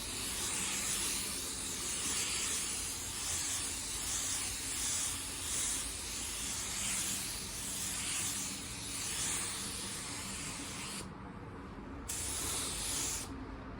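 A spray gun lays a wet coat of basecoat paint in a long, steady hiss with gentle pulses as passes are made, stopping briefly twice near the end.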